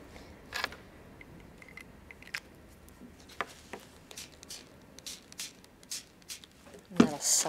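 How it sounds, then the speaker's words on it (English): A spray bottle gives a couple of short, hissing spritzes of paint, one near the start and one near the end, with quiet handling and scratching sounds between them. "I'm going to spray this a little bit"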